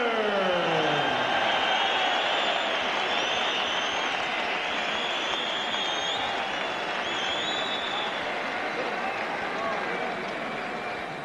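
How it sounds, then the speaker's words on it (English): A boxing arena crowd applauds and cheers for winner Alex Arthur after a technical knockout, a dense sustained roar of clapping that slowly fades, with an announcer's voice over it. "While Arthur takes his well-deserved applause"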